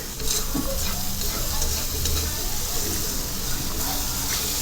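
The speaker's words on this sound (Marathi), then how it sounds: "हे बघा आता आजूबाजूला ऑइल सुटलेले म्हणजे मसाला आपला छान रीतीने फ्राय झालेला आहे" A soybean curry masala fries in oil in a pan while being stirred, a dense, close and continuous sizzle with scraping stirs throughout, steady in loudness and free of speech.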